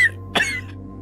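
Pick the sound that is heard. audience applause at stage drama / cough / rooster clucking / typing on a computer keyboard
cough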